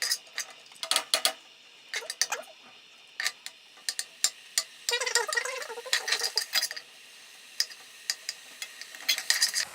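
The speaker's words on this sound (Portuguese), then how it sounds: "Eu frito a cebola ali no óleo um pouquinho antes de começar a colocar os outros ingredientes." Onion frying in oil in a pan, a light sizzle broken by sharp clinks and scrapes of a utensil stirring against the pot, close by, with one longer stretch of stirring.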